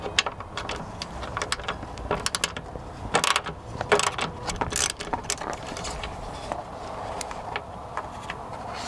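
A screw being backed out during headlight removal on a Ford SVT Raptor gives a series of irregular ratcheting clicks and small metallic ticks, close and moderately quiet over a faint steady background.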